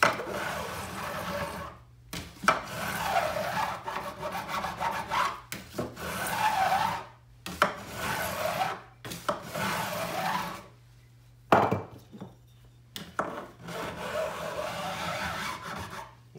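A second-cut smooth Grobet gunsmithing file glued to a grenadillo block rasps across the frets of a classical guitar during a refret, in long repeated strokes separated by short pauses.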